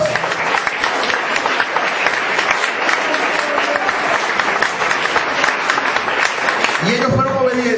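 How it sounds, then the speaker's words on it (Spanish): Loud, dense applause from a church congregation fills the whole stretch as an offering is received at a service on covering the family, and a voice speaks briefly near the end. "Vamos a ofrendar un fuerte aplauso."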